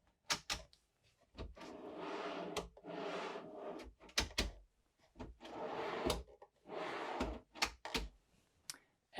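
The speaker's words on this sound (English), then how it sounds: "these are push to open drawers. So you just push and then pull open." Push-to-open pantry drawers in a 2026 Newmar Essex RV are pressed and pulled open, giving sharp clicks and knocks followed by sliding rumbles, repeated several times at close range with no talk.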